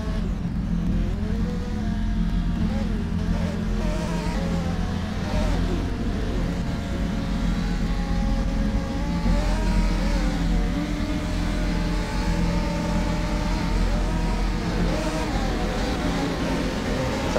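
Radical SR3 race cars in rFactor 2 roar off the line at the start of a race at Donington, a dense, continuous layered engine drone with rising revs, loud and sustained throughout.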